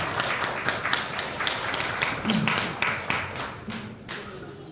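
Congregation clapping together at a Christmas thanksgiving worship service, a dense, steady wash of many hands with brief louder accents, filling the room.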